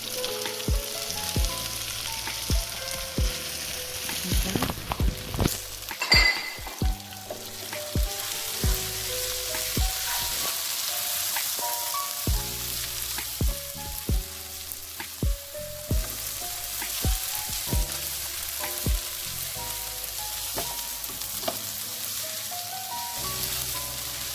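Spinach being folded into frying efo riro stew, a continuous sizzle with recurring scraping and clinking stir strokes from a spoon in the pot, close and steady throughout.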